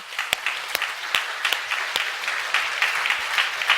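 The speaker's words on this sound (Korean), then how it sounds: "우리 박수 한번 합시다" A church congregation claps together during a Sunday worship service, a steady, dense round of applause lasting a few seconds with no voices over it.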